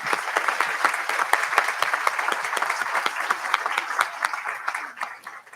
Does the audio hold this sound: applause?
yes